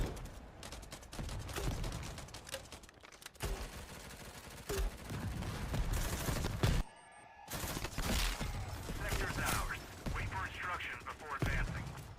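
M249 machine gun firing in Forefront VR, sustained rapid automatic bursts with dense crackling shots, a short pause in the middle, then more firing; a voice talks over parts of it.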